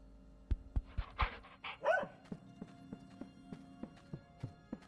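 Puppy companion in the video game Core Keeper giving a few short, sharp barks in quick succession, followed by a soft series of light rhythmic game sound effects.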